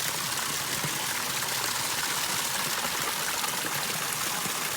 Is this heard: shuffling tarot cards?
no